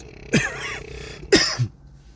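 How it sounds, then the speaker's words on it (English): Two close, sharp coughs about a second apart, each with a rough, throaty tail, in a quiet room. "I've been trying to hold that cough for a minute."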